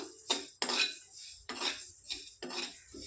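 Fried brinjals are lifted from a pan onto a plate with a metal utensil, producing four or five sharp, close scraping clinks of metal on cookware with short pauses between, no talk.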